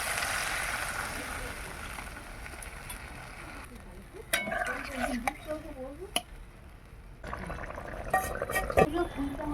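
Water is poured into fried spice masala in a pan for an egg curry, giving a steady hiss and sizzle followed by bubbling and stirring, with a voice talking throughout.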